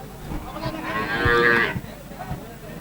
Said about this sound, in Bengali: দেখেন প্রচুর গরু